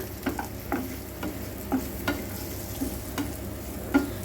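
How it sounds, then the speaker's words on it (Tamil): Sliced onion frying in a pan while being stirred, soft sizzling under a string of scraping, tapping spoon strokes at close range, with no talk. "அதை நீட் நீட்டாக கட் பண்ணி இதில் போட்டுக்கிறேன் இதை நம்ம கலந்து விட்டுக்கலாம்"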